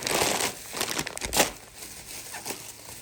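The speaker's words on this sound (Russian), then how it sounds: "Анжелика, открой мне, пожалуйста, пакетик" A small plastic bag crinkles and rustles as it is opened in a home kitchen, a run of irregular close crackles with sharper bursts in the middle and no speech over it.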